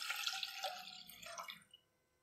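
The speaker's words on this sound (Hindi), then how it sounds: "अब उसमें हम दूध डाल देंगे। फुल क्रीम दूध है।" Faint trickling and splashing of full cream milk poured into a pan for Kashmiri pink tea, lasting about a second and a half before tapering off into quiet.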